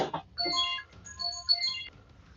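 A FaceTime video call ringtone plays on a phone, a short bright melodic chime pattern repeating twice at moderate volume with no talk over it.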